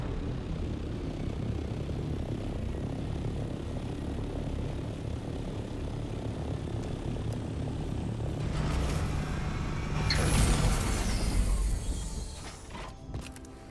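An aircraft flown in the video game Dune Awakening gives a steady propeller-like engine drone that builds to a louder roaring pass near the end, then eases off.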